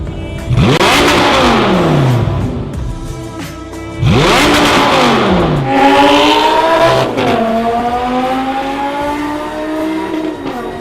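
Lamborghini Gallardo fitted with an Armitrix exhaust back box, revved hard in three loud, close bursts, each rising to a sharp howl before dropping back, the last settling into a rumbling idle.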